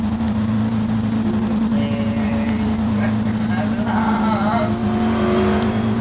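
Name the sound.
riding lawn mower engine driving uphill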